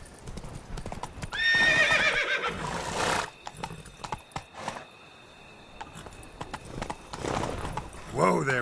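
Roach, a horse in The Witcher 3: Blood and Wine, gallops with steady rapid hoofbeats throughout, a loud whinny near the start and another at the end, while someone speaks briefly over the riding.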